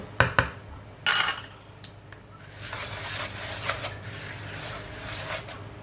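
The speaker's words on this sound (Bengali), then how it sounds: "আমার ভেজানো সুজিটা এর সঙ্গে মেশাবো। এটাকে আমি একটু ভালো করে মিশিয়ে নেব।" Soaked semolina being mixed in a bowl: a few sharp knocks and a scrape of the spoon at the start, then a continuous soft, wet rubbing and squelching as it is stirred.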